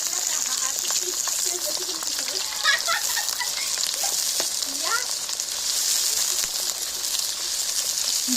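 Meat sizzling steadily in hot oil in a home kitchen, a continuous close frying hiss with a few faint bird calls and small clicks in the background.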